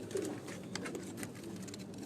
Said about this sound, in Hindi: उनके घर के ये कबूतर जो है ये आपको दिखाए जा रहे हैं